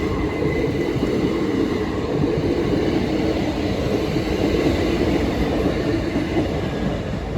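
A Class 375 electric multiple unit train rolls past a level crossing at Deal, giving a loud, steady rumble of wheels and rail noise close by for the whole stretch, with no voices.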